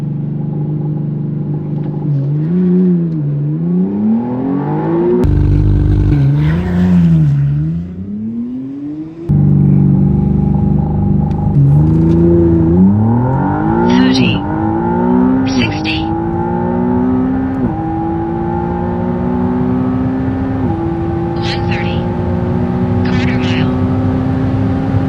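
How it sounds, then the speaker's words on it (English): McLaren Artura launched at full throttle with launch control for a quarter-mile run, a loud engine climbing through several rising gear sweeps with brief shift dips, heard from inside the car under occasional talking. "I'm gonna go full throttle, and then I'm just gonna go, and it's gonna launch."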